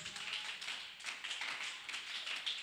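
A church congregation claps together to acclaim Jesus Christ, a dense wash of many hands with steady, crowd-wide rhythm throughout, close and fairly loud with no talking over it.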